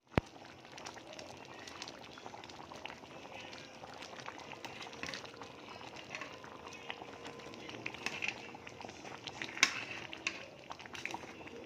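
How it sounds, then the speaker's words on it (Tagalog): Ginataan, a coconut milk stew, bubbles in a pot with a soft steady simmer and scattered small pops and clicks throughout, the sound staying fairly quiet. "Ayan, malapit nang maluto ang aking ginatan."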